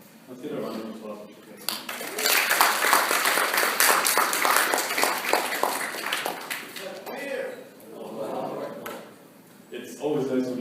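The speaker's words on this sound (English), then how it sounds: "Let's get a round of applause." An audience at a university Muslim student association event applauds a speaker, a broad wash of clapping that builds and fills the room for several seconds before fading, with talking voices before and after.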